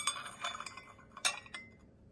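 A stainless steel teaspoon and fork clink against each other and nearby china, a few bright, close metallic taps spread through a quiet moment, with one sharper strike near the middle.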